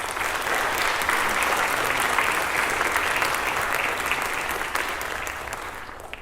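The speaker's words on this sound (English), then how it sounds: "Please give her a big round of applause" Audience applause fills a hall at a Bharata Natyam arangetram, steady, close and dense clapping from a large crowd that stays even for several seconds before tapering a little at the end.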